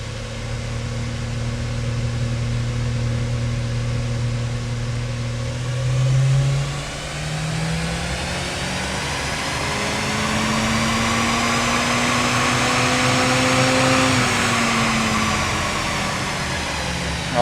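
A Mitsubishi Pajero Mini's small engine revs up on a dyno, its droning tone climbing steadily through a long pull, dipping briefly partway, then rising again to a loud, strained peak near the end.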